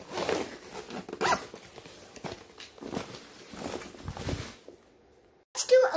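A school backpack's zipper is pulled open in several quick ripping strokes, close and fairly loud, followed by a brief pause and a sharp final zip.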